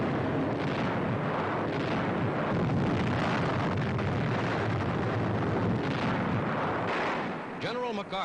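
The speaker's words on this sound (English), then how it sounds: "Enemy positions and installations along the entire coast are blasted again and again." Artillery fire and explosions pound enemy coastal positions and installations in a wartime assault, a dense, continuous roar of blasts and rumble that fills the whole stretch, with a few sharper crackles near the end.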